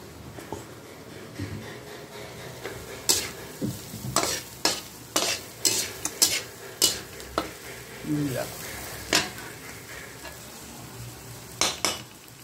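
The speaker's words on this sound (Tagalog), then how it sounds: "Halo ulit. Halo. Sunod natin tong luya." A utensil stirs ginger in a frying pan for bangus (milkfish) with tausi, sharp metallic scrapes coming in quick repeated strokes over a faint steady sizzle, close and fairly loud, with no talk.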